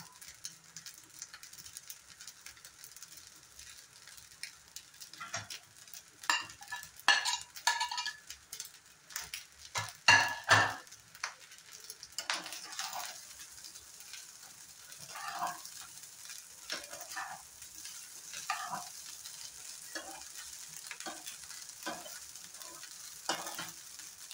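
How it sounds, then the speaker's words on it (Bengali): Fried paneer stirred into fried rice in a pan, with soft sizzling underneath and a run of scraping, clinking spatula strokes that come in irregular bursts, closely miked and fairly quiet. "এখন দিয়ে দেব ভেজে রাখা পনিরটা"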